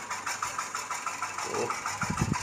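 Engine of a homemade Thai walk-behind tractor fitted with an old motorcycle engine, running steadily with a knocking, pulsing idle throughout and a few louder low thumps near the end.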